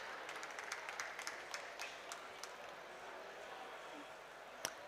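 Faint audience applause from a conference crowd at a COP27 youth adaptation solutions event, a steady patter of clapping heard at a distance for several seconds.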